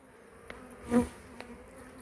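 Honeybees buzz at an open beehive; a single bee hums faintly, then swells louder as it passes close before fading, over quiet background.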